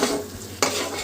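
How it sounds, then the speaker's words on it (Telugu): Meal maker pulao being stirred in a pan after water is added, a wet scraping and sizzling stir with a sharp louder stroke midway, close up, with no talking. "సో ఇలా వాటర్ వేసుకున్నాక ఒకసారి మిక్స్ చేసుకోండి మంచిగా."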